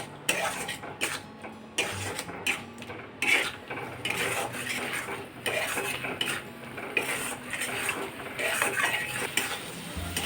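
Tomato and ground spice paste being stirred and fried in a pan for a ridge gourd curry, repeated scraping and clinking of a spatula against metal over a low sizzle, steady and close.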